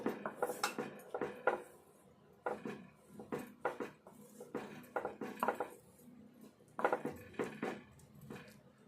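Milk is poured into a pan for a sweet and stirred with a utensil, giving repeated soft scraping and clinking sounds in uneven bursts, fairly quiet and close.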